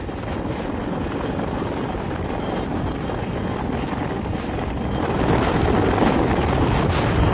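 A rescue helicopter flies over snowy mountains in Italy, a continuous loud rotor roar with dense chopping texture and wind noise, growing slightly louder toward the end, with no voices.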